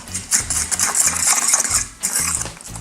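A fork whisks vegan pancake batter in a bowl, producing a steady run of close, clinking scrapes against the bowl with a brief pause partway through.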